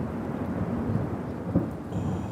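Thunder sound sample rumbles low and steady over a faint rain-like hiss, with a couple of soft cracks in the short stretch.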